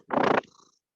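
A cat purrs loudly and close for about a third of a second, a dense rumbling burst that then fades into a faint, breathy tail.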